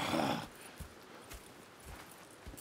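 Horses at a camp in Red Dead Redemption 2, a few soft hoof thuds and shuffles spaced out after a brief burst of noise, quiet and distant.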